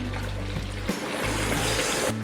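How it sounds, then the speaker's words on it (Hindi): Reserved water poured into a pot of fried mutton korma, a steady close trickle and splash of liquid with a hiss of hot oil, heard alone without talk for just over two seconds. "अब इसमें जो बाकी का मैंने पानी निकाला था ये इसमें डाल देंगे।"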